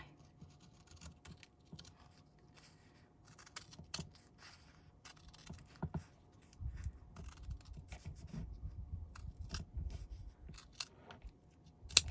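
Scissors snip through strips of red and white scrap tape, giving a string of short, crisp cuts and soft rustles close by, with duller handling thumps near the end and no talking.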